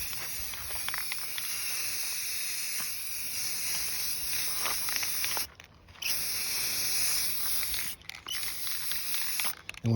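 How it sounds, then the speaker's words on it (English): Steady hissing spray from a paint gun applying a heavier second coat to a 1987 Chevrolet C10 bumper runs close by almost continuously, broken by a couple of short pauses where the trigger is released. "This second coat kind of heavier."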